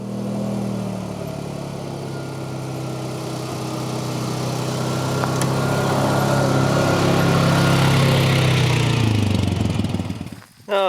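A 2004 Polaris Ranger 6x6 utility vehicle drives along with new suspension bushings, its engine droning steadily and building gradually in loudness, close by, before dropping off abruptly near the end.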